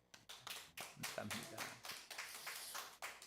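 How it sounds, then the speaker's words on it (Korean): A congregation at a Korean church worship service claps in a short burst of applause, fairly close, with a voice speaking over the clapping. "우리 감사 박수"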